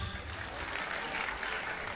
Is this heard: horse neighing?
no